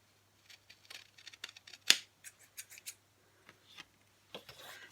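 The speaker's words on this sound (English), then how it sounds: "So I will just trim that off," Scissors trimming card for a Christmas card kit, one distinct loud snip followed by several lighter, quieter cuts and rubbing, close and otherwise quiet.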